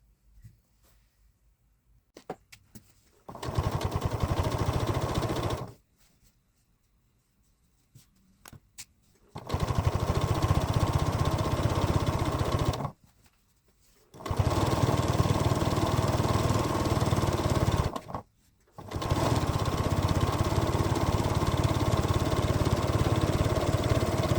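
A sewing machine running a quarter-inch seam to join fabric strips, a loud steady close whir in long bursts of several seconds each, stopping briefly between runs, with no talk.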